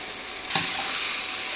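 Onions and a spice mixture frying in a pan, a loud steady sizzle that jumps up as the mixture hits the hot oil and then holds at a dense hiss.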